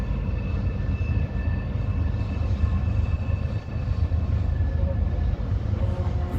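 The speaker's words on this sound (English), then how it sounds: "end of the rail cars just came out of the tunnel." Slow train of rail cars rolling past on the Tehachapi Loop just after leaving a tunnel, a steady low rumble with faint squealing tones, continuous and fairly close, with no talk.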